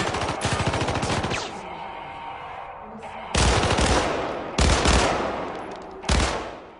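Assault rifle fire in the Syndicate shooter game, a TAR rifle with underslung grenade launcher: loud close bursts of rapid automatic shots, a long opening burst followed by several shorter bursts separated by brief pauses.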